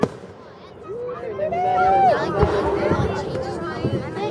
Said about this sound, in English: Last fireworks are boom